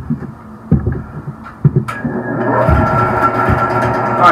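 A 10-inch bandsaw motor starts up partway through and then runs with a steady mechanical drone, preceded by scattered handling knocks and thumps close by.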